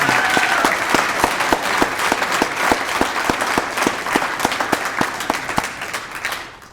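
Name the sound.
audience applause at a prize ceremony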